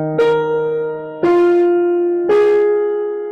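Notes of the opening two bars of a choir's bass and tenor parts are played for rehearsal, three sustained struck tones in a slow even rhythm, close and clear, with no talking over them.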